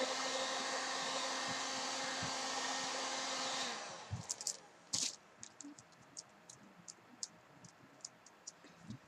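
A heat gun roars steadily as it warms a Worbla thermoplastic sheet, then shuts off after a few seconds, followed by scattered light ticks and taps nearby.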